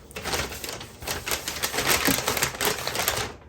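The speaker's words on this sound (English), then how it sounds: "Now this will be put in a paper bag also." Food for a picnic is packed into a crisp paper bag, with rapid crinkling and rustling paper handled close up in uneven bursts.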